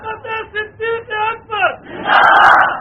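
A crowd at a religious gathering shouts slogans in answer to a leader, with five short rhythmic sung calls followed by a loud massed roar of voices.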